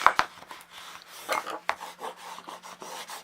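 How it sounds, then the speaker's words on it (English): Adhesive tape being burnished down onto a paper page of a handmade mini album, a series of quick dry rubbing strokes and rasps close to the ear, uneven in rhythm, with no talk. "when you have finished adding all your tape, give it a good burnish"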